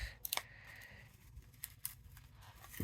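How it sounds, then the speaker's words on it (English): Scissors snipping paper at a craft table in a few short, crisp cuts, soft and close with quiet gaps between them. "just cut the whole thing out"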